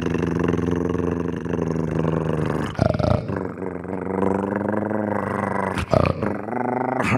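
A person imitates a dog's menacing growl with a low, rumbling, continuous snarl that runs several seconds, close and loud, broken by brief catches of breath.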